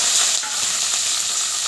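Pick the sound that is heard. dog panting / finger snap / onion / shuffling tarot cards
onion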